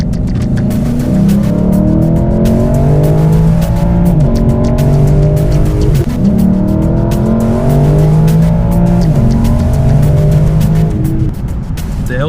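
A 2018 Lexus LC500 coupe accelerates hard through repeated gear runs, its engine note climbing loud and close in rising sweeps while the tires squeal.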